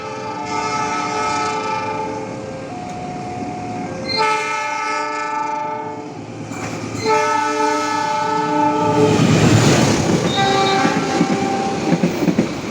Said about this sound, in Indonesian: kita tunggu kereta api Malabarnya masuk di jalur 2 stasiun Awi Pari dan berjalan langsung